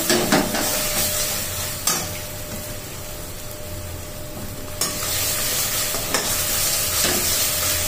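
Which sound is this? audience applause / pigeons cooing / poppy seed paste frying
poppy seed paste frying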